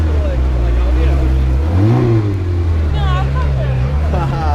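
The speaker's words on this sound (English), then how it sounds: "You get to hear a Ferrari." A Ferrari engine drones at low rpm with a steady, loud rumble, then its pitch climbs briefly in a rev before settling back. Crowd chatter and voices run underneath at a car show.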